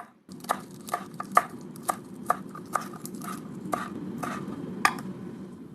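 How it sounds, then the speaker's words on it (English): A knife chops compressed parsley leaves on a board in a home kitchen, about a dozen crisp, close taps in a fairly even rhythm over a low room hum. "Then we rotate and twist the leaves to make them tightly compressed, and start chopping."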